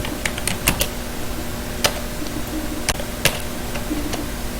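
Scattered key clicks from typing Python code on a computer keyboard, with irregular bursts and pauses between sharp taps, close and fairly quiet, with no voices.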